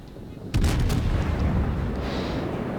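Naval gunfire in World of Warships, with a heavy onset of booming salvos that merges into a sustained rumbling roar of shots and explosions at a moderate distance.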